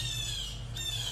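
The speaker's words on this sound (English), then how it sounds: "I'm hearing a lot of birds in the trees all of a sudden." Birds squawk from trees in a front yard garden in late September, a loud, steady, shrill cry that runs almost unbroken and dips only briefly, with no one talking.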